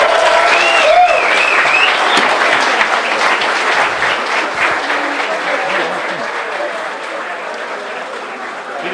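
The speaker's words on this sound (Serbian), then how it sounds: "Najveći aplauz za naše dragi mladence, molim vas." Wedding guests at a Bosnian celebration in Dubrave, Đurđevik, applaud the newlyweds: dense, sustained clapping from a crowd, close and loud, with whistles and cheering voices mixed in, slowly thinning toward the end.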